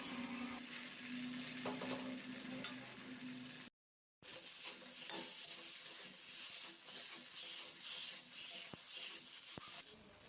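Spice paste with tomato sizzles and is stirred in hot oil in a pan for pabda fish curry, a soft steady frying hiss with occasional scraping clicks and a brief cut in the middle.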